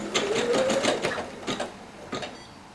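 A Brother embroidery machine stitching a satin-stitch border on an appliqué patch, a rapid close mechanical needle chatter with a rising whine, steady then fading slightly toward the end.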